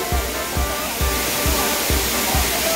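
Scatter Falls at Ng Tung Chai pours down as a constant broad rushing hiss of water, with soft, regular low thumps like footsteps or handling repeating about twice a second underneath.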